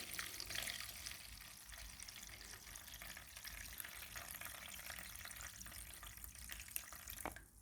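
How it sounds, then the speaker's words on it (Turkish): Water drains steadily through washed rice in a strainer. It makes a continuous, fairly soft rushing splash close by, with no talking. "Bu şekilde pirincimizi süzelim arkadaşlar."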